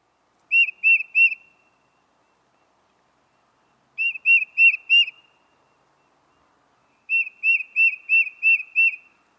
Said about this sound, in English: The American goldfinch says, "Per-chick-a-ree."